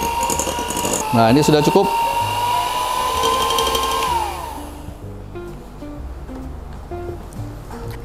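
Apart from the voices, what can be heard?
electric mixer beating brownie cheesecake batter at low speed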